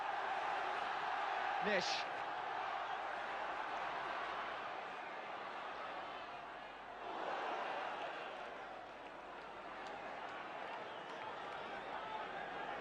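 Football crowd at the Baseball Ground for Derby versus Leeds in 1975, a steady roar of chatter and shouts filling the stadium with a swell near the end, under a commentator's voice.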